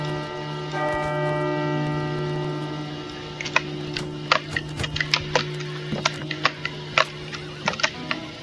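A bell rings in a Wild West video game, one long sustained tolling tone fading slowly, followed by a series of sharp wooden knocks and clicks in an irregular rhythm.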